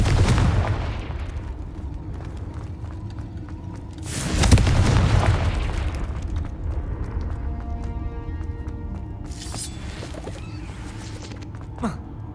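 Confringo fire spell blasts in Hogwarts Legacy, several heavy booming explosions with long rumbling tails, one at the start, a bigger one around four seconds and a lighter burst near the end, over a low game ambience.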